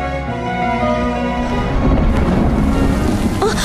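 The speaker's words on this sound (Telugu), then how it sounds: "వర్షం ఒకటి పడుతుంది" Dense, steady rain pours at night, a continuous close hiss that swells slightly partway through, with faint sustained tones underneath.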